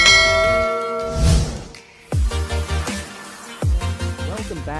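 A bell chime used as a notification sound effect for a subscribe bell icon, ringing out with sustained harmonic tones over music, followed by a couple of sharper struck accents.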